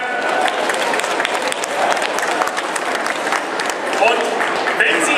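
An audience at a comic festival breakfast event applauds, a dense, sustained clapping that stays loud and steady throughout, with crowd murmur mixed in.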